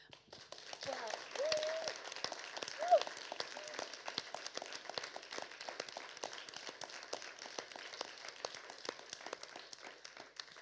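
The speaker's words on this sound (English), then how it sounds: "Well, spontaneous applause." Audience at an artist conversation between Zoe Leonard and Suzanne Cotter breaks into spontaneous applause, faint and distant, a steady patter of many hands lasting about ten seconds.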